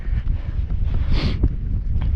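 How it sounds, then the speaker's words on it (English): Wind gusting over an open hilltop near Stoodley Pike, a steady close rumble of buffeting against the microphone with one brief hissing swell. "Windy."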